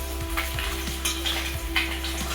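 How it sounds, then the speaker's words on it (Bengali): Pieces of bata fish fry in hot oil in a pan, a steady close sizzle and crackle with a few soft stirring and scraping knocks underneath a constant low hum. "মা ভালো করে লাল লাল করে ভেজে নিচ্ছে"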